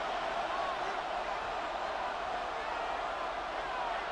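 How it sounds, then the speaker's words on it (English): Stadium crowd at a Buffalo Bills home game against the Ravens in Madden 26, a steady broadband roar of fans before third down that holds evenly throughout with no commentary over it. "The Buffalo crowd being heard before 3rd down."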